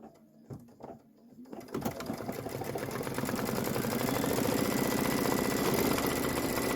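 A sewing machine stitches a pillow block. A few soft knocks and clicks come first, then the motor whirs up into a steady, close, rapid rhythmic hum that holds to the end.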